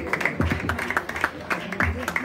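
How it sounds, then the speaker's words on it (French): Audience applause at a festival, a patchy burst of many hands clapping under a voice speaking over it. "est-ce qu'on peut applaudir pour les candidats?"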